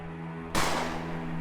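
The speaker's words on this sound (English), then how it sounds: "A gunshot nearly makes us jump out of our skin" Single gunshot in the zombie survival game Cataclysm: Dark Days Ahead, a sudden sharp crack that decays quickly over a steady low hum.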